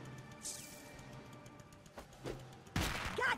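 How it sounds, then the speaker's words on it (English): Fireworks go off in the South Park: The Fractured But Whole video game: scattered crackling pops and a loud sudden burst near the end, over a low ambient game backdrop. "Firework can be so dangerous!"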